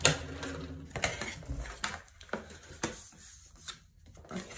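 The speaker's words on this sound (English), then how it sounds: "I'm just going in with my trusty tape." Sticky tape pulled off and pressed onto a handmade dome card, giving short rasping pulls and taps in an irregular rhythm, close and moderately quiet with no talking.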